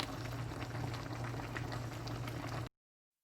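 Haitian vegetable stew of watercress and meat simmering and steaming in a pot, a steady bubbling boil with a low hum beneath, close and continuous, with no talking.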